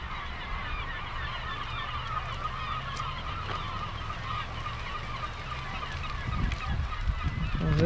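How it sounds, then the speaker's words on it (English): A swarm of seabirds feeds on bait fish churned up by a bore tide, making a continuous chorus of honking, goose-like calls that grows louder and busier toward the end over a low rumble. "we got to the end and we noticed these birds swarming"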